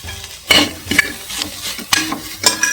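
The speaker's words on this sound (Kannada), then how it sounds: "ಈಗ ನಾನು ಚಿಲ್ಲೀಸ್ ಆ್ಯಡ್ ಮಾಡ್ತೀನಿ" Chillies tossed into a hot pan of frying vegetables for mushroom chilli, with a few sharp stirring scrapes and clatters over a soft, steady sizzle, close and fairly loud.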